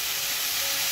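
Potato and pointed gourd curry cooks in a pan, giving a brief, even sizzling hiss close by.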